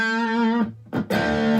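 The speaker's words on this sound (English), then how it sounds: "I'm using my solid state Marshall, by the way. I'll put a tiny bit of reverb on so it doesn't sound so dead." An Epiphone SG electric guitar played through a solid-state Marshall amp with a touch of reverb, sounding out two sustained, rich chords separated by a short pause, close and loud with no talking.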